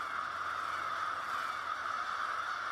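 Thousands of crows gathered at an urban park roost in South Utica keep up a steady, unbroken wall of harsh cawing calls.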